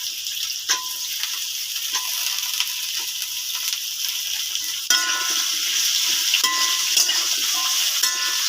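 Potatoes and drumstick pieces fry steadily in a pan with a continuous sizzle. Scattered metallic clinks from stirring come through, and the frying turns louder and brighter just before the five-second mark as more goes into the pan.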